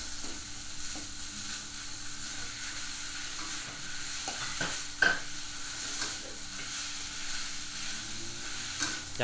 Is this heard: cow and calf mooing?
no